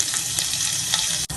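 Bay leaves, dried red chillies, whole cumin and chopped ginger sizzle steadily in hot white oil for a khichuri base, with a constant close crackle, a couple of faint stirring scrapes and a brief dip near the end.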